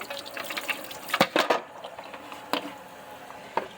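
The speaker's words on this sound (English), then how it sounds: "dump these bio balls into a strainer, so I can also rinse out the bottom of this" Water splashes and trickles as canister filter bio balls are rinsed in a strainer during cleaning of a Marineland canister filter, with uneven bursts of running and spattering water.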